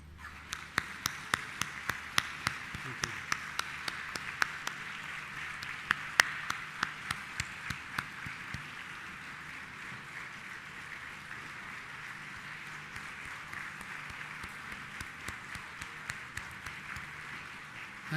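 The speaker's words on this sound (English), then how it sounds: "clapping" Graduates at an IIM Calcutta annual convocation clap for their parents and teachers, a soft, distant spread of applause with sharp separate claps standing out early, then settling into a quieter, even patter that fades gradually.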